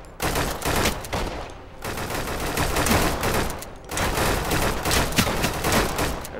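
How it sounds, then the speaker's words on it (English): Rapid bursts of automatic gunfire in the video game Deadside crackle almost continuously, dense and loud, pausing briefly twice before resuming. "I hear gunshots"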